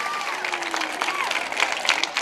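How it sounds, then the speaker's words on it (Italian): An audience at an event applauding, a dense continuous clatter of many hands with a few voices and a whistle-like tone mixed in, fairly close and even throughout. "Facciamoci tutti un applauso."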